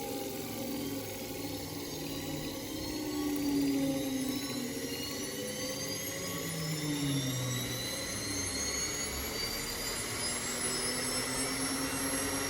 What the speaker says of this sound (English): So now we're going to start loading the secondary motor, because this generator loves to see a load.